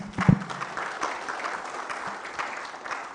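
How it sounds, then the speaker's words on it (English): Round of applause from an audience at a programme welcome and introductions session, a steady wash of clapping that runs the whole stretch at moderate level, opening with a brief louder thump. "Let's give him a warmer round of applause,"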